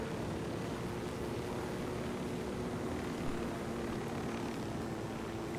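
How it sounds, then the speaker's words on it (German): Helicopter in the tactical shooter Ghost Recon Wildlands, a steady droning rotor and engine hum held at an even level throughout, with no talk over it. "Flieg mal mit dem Hubschrauber ein bisschen näher ran."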